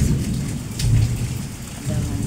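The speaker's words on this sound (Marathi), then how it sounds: "वीज इकडं ते ढग आणि पाऊस लागला आहे पडायला" Unseasonal rain falls during a thunderstorm with lightning, a steady wash of rain under low rolling rumbles that swell and fade.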